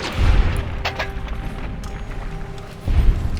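Gunfire from Fallout New Vegas: two heavy, booming shots, one right at the start and another near the end, with a quieter rumbling stretch between them.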